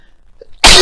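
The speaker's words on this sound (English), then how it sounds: "I just felt that sneeze come on" One sudden, loud, close sneeze bursts out abruptly after near silence, from a person indoors.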